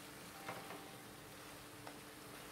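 Fried chicken goes into spice paste in a pan and sizzles with a faint, steady hiss, broken by a few soft scraping stirs.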